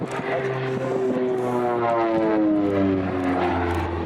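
Propeller aircraft engines run at an air show at Istres air base, producing a loud, steady droning roar with pulsing harmonic tones that shift slowly in pitch, continuous and fairly close throughout.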